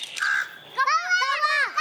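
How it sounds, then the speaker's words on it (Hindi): A crow caws several times in quick, harsh calls, loud and close, with a short pause between bursts and no talk over it. "कौवा था।"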